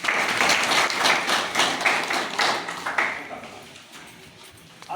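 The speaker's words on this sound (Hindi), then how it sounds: "तो लगे और एक बार ताली लगा अभिनंदन के उसको" Applause from a crowd at a village council election gathering, dense, loud clapping that holds steady for several seconds and then thins out and fades.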